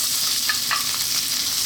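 Garlic and onion frying in cooking oil for chicken fried rice, a loud, steady close-up sizzle with a couple of brief stirring scrapes.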